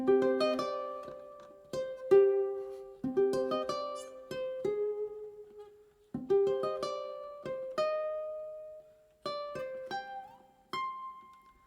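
A ukulele plucks the bright lead melody of the X-Men animated series theme alone, notes clear and close with gaps between phrases, each note decaying quickly.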